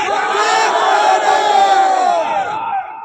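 A large crowd at a protest shouts in unison, a loud sustained roar of many voices chanting together with raised hands, close and continuous throughout.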